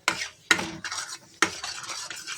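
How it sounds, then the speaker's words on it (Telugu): Milk powder barfi mixture being stirred in a pan, heard as a few distinct scraping strokes of a spoon against the pan with faint sizzling between them, close by and with no voices. "మాడిపోకుండా కలుపుకోవాలండి."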